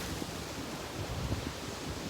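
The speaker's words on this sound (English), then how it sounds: "The tide is too high and the waves are too large." Large, powerful ocean waves crashing on a Baja beach at high tide, a continuous broad roar of surf mixed with wind noise, steady and moderately loud.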